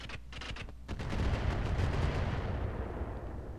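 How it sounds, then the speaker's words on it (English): An ammunition explosion in the Roguetech mech combat game erupts as a deep, rumbling blast following a few sharp cracks, loud and sustained before slowly fading. "That was a big explosion."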